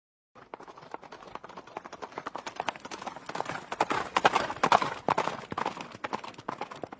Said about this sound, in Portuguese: O cavaleiro preto galopava sobre a terra.